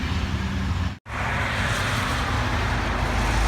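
Steady roadside traffic in Opelika, Alabama, a continuous broadband rush of passing cars close by, briefly cutting out for an instant before the loud, even roar resumes with no voices.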